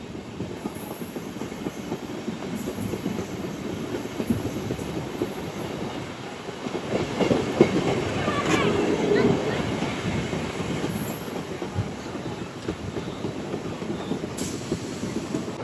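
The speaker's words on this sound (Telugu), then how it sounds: "భీమవరం జంక్షన్ వచ్చి 20 దాకా ఈ మెమో ట్రైన్ ఎక్కామన్నమాట" Inside a MEMU passenger train running from Bhimavaram Junction toward Nidadavolu: a constant close rumble with rhythmic clickety-clack of wheels over rail joints and brief squeals, swelling slightly midway.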